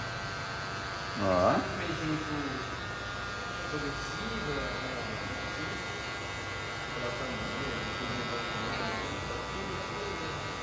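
An electric hair clipper buzzes with a steady mains-like hum as its tips work through a two-guard fade, accompanied by someone speaking briefly and some faint background talk.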